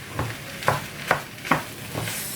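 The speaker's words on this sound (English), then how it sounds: "So I just have to mix everything together." Basmati fried rice with coconut milk is stirred in a pan, five evenly spaced scraping strokes over a low simmering sizzle, close and with no voices.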